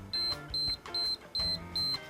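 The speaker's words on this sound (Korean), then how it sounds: "이 맨 위에 버튼을 눌러주는 거예요. 그러면 이렇게 삐삐삐 소리가 7번 나는 게 한 샷이에요." A home-care beauty device sounds a run of high, clear electronic beeps, five evenly spaced tones in quick regular rhythm, close and distinct over a faint background.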